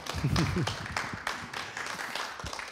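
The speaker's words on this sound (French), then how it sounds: "Ok, on peut applaudir, hein." A burst of applause from a group, with scattered claps and a low voice murmuring underneath, fading into lighter clapping.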